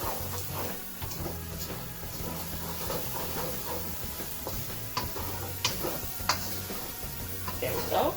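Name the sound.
stirring onions and garlic frying in pan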